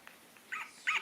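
A small dog gives two short, faint, high yips in quick succession in a quiet indoor setting, with no talking.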